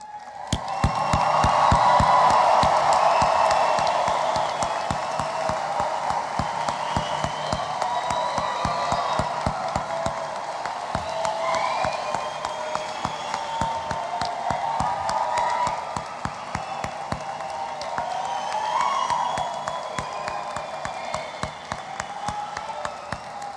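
Graduation ceremony crowd in a large arena applauding and cheering continuously, a dense roar of clapping and voices with whoops rising and falling, sustained at a steady loud level throughout.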